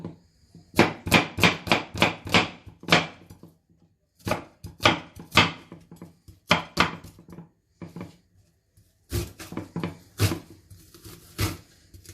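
Onion being chopped on a board with a knife, in quick bursts of rapid, crisp, close-up strikes separated by short pauses.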